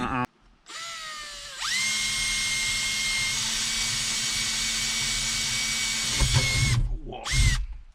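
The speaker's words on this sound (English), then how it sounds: "drilling holes in the roof, in the ceiling" A power drill drilling holes in a van roof whines steadily for several seconds, spinning up and holding pitch, then stops with a couple of short bursts at the end.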